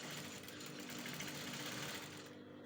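A sewing machine stitches a rolled hem on a kaftan, a fast steady whirring hum, faint and close, stopping near the end.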